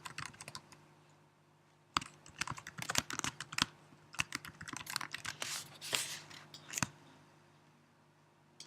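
Quick bursts of typing on a computer keyboard clatter close by, clustered keystrokes with short pauses between them against a quiet, faintly humming room.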